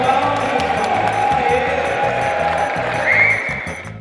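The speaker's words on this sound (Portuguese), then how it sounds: "Uma salva de" A crowd at a festa junina claps and cheers in a dense, steady wash of applause with whoops rising near the end before it fades a little, with voices mixed in.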